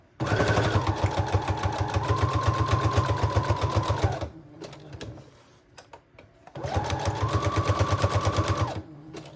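A sewing machine stitches a patchwork junk journal in two loud, rapid bursts of needle chatter, with a short pause of handling sounds between them.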